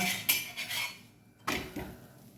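Metal dosa spatula scraping and flipping a pearl millet (sajje) roti on a hot pan, two close metallic scraping clatters separated by a short pause.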